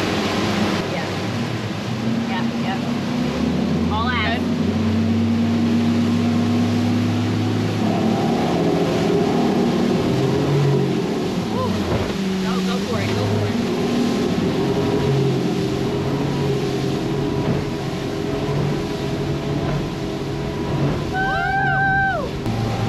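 A 23-foot Reef Runner boat runs across open water, its outboard engine a steady loud drone over rushing water and wind, with voices talking now and then and a brief tonal beep near the end.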